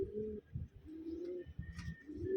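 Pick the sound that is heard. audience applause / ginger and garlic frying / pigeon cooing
pigeon cooing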